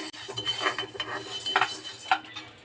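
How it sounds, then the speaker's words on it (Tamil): Urad dal dry-roasting in a pan for garlic idli podi powder, stirred steadily with a metal spoon that scrapes and clinks against the pan in a few soft, scattered taps, no voices over it. "இதை நல்லா வறுத்து விடுங்க கைவிடாமல் வறுத்து எடுக்கணுங்க"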